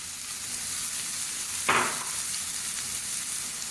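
Vegetables such as bell pepper, grated carrot and cabbage fry in a pan with a steady soft sizzle, broken once by a brief sharp scrape or stir midway, with no talking.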